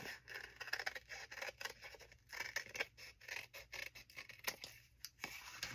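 Scissors snip through paper while an embellished linen journal is being assembled, giving a close, quiet run of uneven crisp cuts and scratchy rustles with short pauses between them, and no talking over them.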